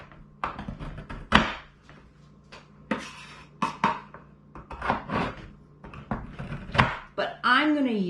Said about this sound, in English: what I learned to do is I will cut my soap into chunks.